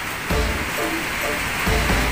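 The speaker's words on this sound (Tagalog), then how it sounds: "lakas pa rin ang ulan." Heavy rain pours outdoors in a constant loud, broadband wash with a few low thumps, filling the whole moment without any voices.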